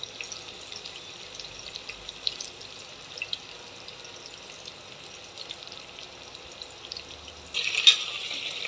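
Khichdi ingredients sautéing in a pan, a quiet, thin sizzling hiss with light stirring taps, then a brief louder burst of crackle near the end, no talk.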